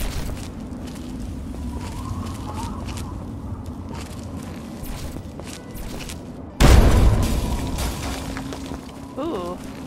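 A bomb goes off in Fallout 3 as one sudden, loud booming blast that decays slowly, following quieter footsteps and ambient sounds, with a brief electronic chirp afterward.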